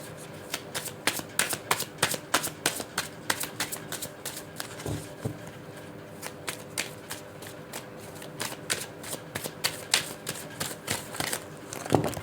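Tarot cards are shuffled by hand in a quiet room, a series of close, soft riffling and slapping bursts in an uneven rhythm, with no voices.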